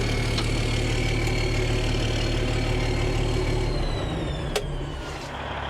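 An old John Deere 8640 tractor idles close by, a steady deep diesel rumble that eases off slightly near the end, with a faint squeak or two and no talk.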